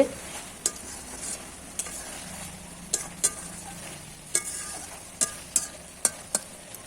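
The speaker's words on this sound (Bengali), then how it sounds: "জল দিয়ে দিয়েছি এবার একটু নেড়ে চেড়ে কিছু সময় রান্না করে নেব" Okra cooking in a pan with added water, stirred with a spoon that knocks against the pan in sharp, irregular clicks over a soft simmer and sizzle, with no voices.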